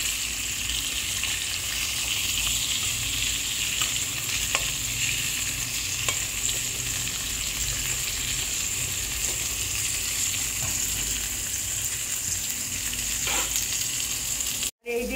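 Pieces of pointed gourd (potol) sizzle steadily in hot oil in a pan, a continuous bright crackle with occasional soft stirring scrapes and clicks throughout, and no voices.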